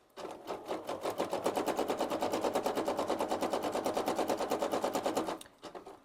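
A sewing machine runs steadily for about five seconds, stitching back and forth across thrifted denim jeans with a fast, even needle clatter that stops abruptly near the end.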